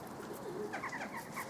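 Pigeons coo softly in a derelict building, a few low, rolling calls somewhat distant over faint background hiss.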